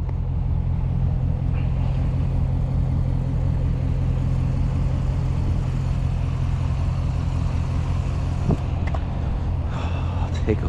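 GMC Sierra 1500 pickup truck fitted with an aftermarket exhaust, a steady low idling rumble held close and constant throughout, with someone talking over it.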